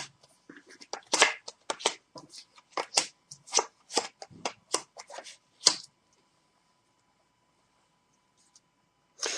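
Fortune-telling cards being shuffled and drawn during a live clairvoyance broadcast, a run of soft, quick riffling snaps and slaps close up that stops abruptly, leaving near silence.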